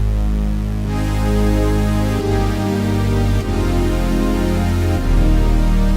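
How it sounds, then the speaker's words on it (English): Massive pad factory patch on a synthesizer, a thick, dense sustained pad whose chords shift every second or so, loud and continuous with no talking. "So here it is. So massive pad sounds like"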